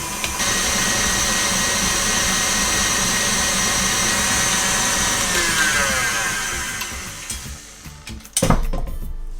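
An electric mixer beats Bakewell tart cake batter in a bowl with a loud, steady whirring drone that drops off near the end, followed by a short clatter, with no talking.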